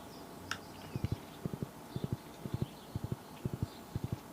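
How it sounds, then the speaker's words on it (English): Rhythmic clip-clop of video game horse hooves, steady repeated groups of sharp knocks at close range, with a faint higher sound early on. "Horse."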